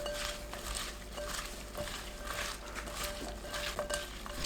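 Sliced Korean melon and cucumber are tossed in a bowl with salt, vinegar and oligosaccharide syrup, giving soft wet stirring and light clinks of utensil against bowl, fairly quiet and continuous.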